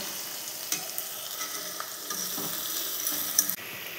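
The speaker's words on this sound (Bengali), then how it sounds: "পেঁয়াজের সঙ্গে এই মাটনের চর্বিটা দিয়ে দেবো, এর থেকে তেল বেরোবে। খুব ভালো করে ভেজে নেব।" Onions fry in rendered mutton fat for biryani, a soft continuous sizzle broken by light stirring scrapes and occasional clinks, close and without talk.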